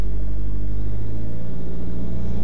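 A car engine idles at steady revs before a hill start with the handbrake on, a constant loud low rumble with a slight dip partway through, no talk heard.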